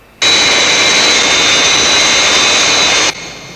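A jet airliner's engines roar at full, steady power as it approaches a runway too small for its size, a loud, continuous blast that cuts in abruptly and holds for about three seconds before dropping away.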